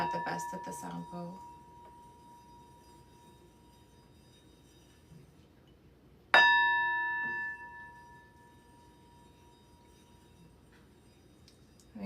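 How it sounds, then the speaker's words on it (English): A singing bowl holding water is struck once, a sharp ring that sustains as a clear, slowly fading tone, following some brief clattering handling noise. "I'm not the best at the sound bowl."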